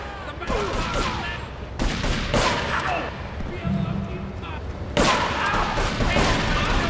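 Loud shotgun blasts in a video game, several heavy booms spaced a second or two apart with gunfire rumbling between them, while players talk over the action.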